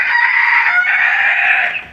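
A chicken on a balcony lets out a long, steady, drawn-out call close by that trails off at the end, heard alone.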